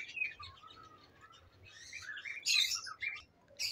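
Lovebirds in a breeding cage setup give scattered bright chirps and short tweets, some sharper bursts clustering midway, over a quiet background without talk.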